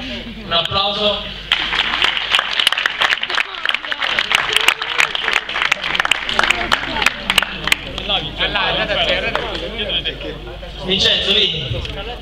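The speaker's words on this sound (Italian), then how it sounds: "Un applauso." Scattered clapping from an audience at a memorial award ceremony rises and thins out, mixed with crowd chatter and voices speaking over the applause.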